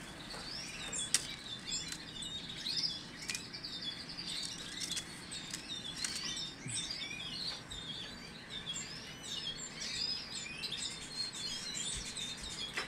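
A blue fife canary, a breeding male, gives quick, faint chirps and twittering song notes in a quiet room. The chirps repeat irregularly throughout with no voices.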